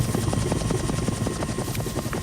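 Helicopter hovering in place over a city rooftop, its rotor blades chopping in a loud, steady rhythmic thud with broad engine roar filling the whole stretch.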